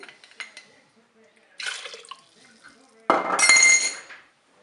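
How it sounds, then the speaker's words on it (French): Cornstarch diluted in water is poured into a Cookeo pot, with short clinks and scraping of utensils against the pot followed by a louder splashing, bubbling burst near the end. "Je vais maintenant ajouter ma maïzena que j'avais diluée dans de l'eau."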